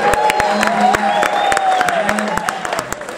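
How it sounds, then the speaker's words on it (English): Comedy club crowd of married men clapping, sharp separate claps standing out over a constant background of crowd cheering and whooping. "The guys are clapping"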